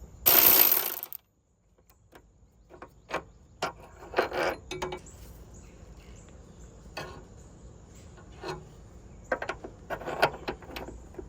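Torque wrench tightening a 17mm torque rod bolt on a 2017–2022 Honda CR-V 1.5T engine mount: a loud burst of ratcheting, then scattered short clicks and ratchet strokes up close, with no talking.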